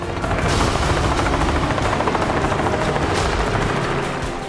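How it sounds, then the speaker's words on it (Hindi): Taiwan Air Force Black Hawk military helicopter taking off from Songshan Air Base, a loud steady rotor thump and engine roar filling the whole stretch without talk. "सोंगशान एयरबेस से ताइवान एयरफोर्स के एक ब्लैक हॉक मिलिट्री हेलीकॉप्टर ने उड़ान भरी।"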